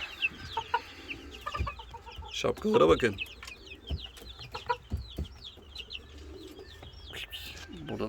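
Chickens and roosters clucking and chirping in a coop among other caged birds, near and busy with overlapping calls, while a person speaks briefly.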